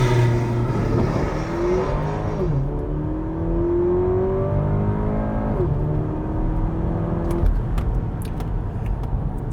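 A Porsche Macan T launches hard with traction control off and sport response on. Its engine note climbs steeply and loudly from inside the cabin, dropping briefly at quick gear shifts before climbing again.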